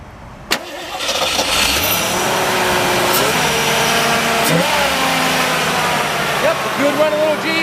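A sharp click, then a 1978 Jeep CJ5 engine with a 2-into-1 exhaust cranks and catches, settling into a steady loud idle with a few small revs, up close.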